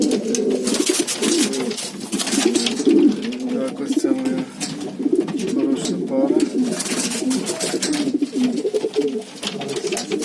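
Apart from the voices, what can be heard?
pigeons cooing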